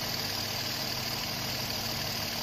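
A car engine idles steadily and evenly in close view, a constant low hum with no break and no voices over it.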